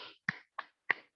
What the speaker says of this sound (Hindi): तो सबसे पहले हम ताली बजाएंगे,